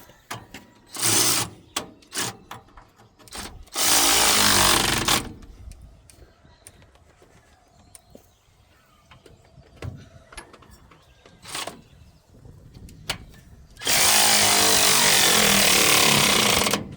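A power tool drives a socket during a truck axle and leaf-spring install in a farm shop, loud rattling bursts of several seconds each separated by quieter clanks and handling noises.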